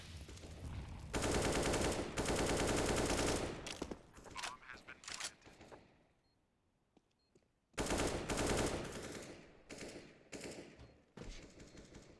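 Gunfire in a Counter-Strike match: loud bursts of rapid automatic fire and scattered single shots, separated by a quiet lull, with a commentator's voice audible over parts of it.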